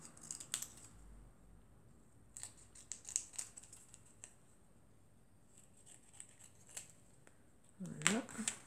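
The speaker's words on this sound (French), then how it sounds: "On va les recouper comme il faut." Scissors snip through small paper cards in a papercraft session, giving a series of crisp, close cuts scattered across quiet moments, with brief rustling of paper near the end.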